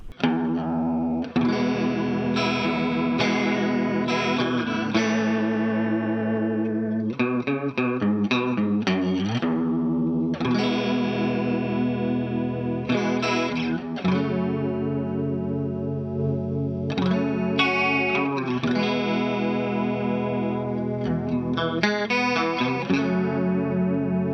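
Electric guitar played through a chain of effects pedals with chorus and distortion, sustained chords and quick runs ringing close and loud without pause for over twenty seconds.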